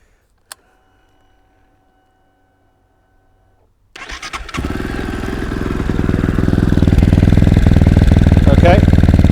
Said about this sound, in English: So let's start with the 500, single cylinder, so you're going to get a dramatically different noise.